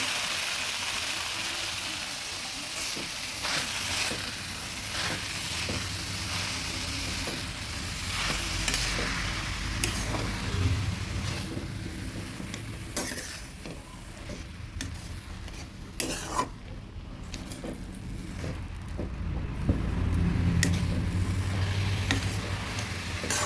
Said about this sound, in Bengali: সব কিছু সুন্দরভাবে মিশিয়ে নিচ্ছি।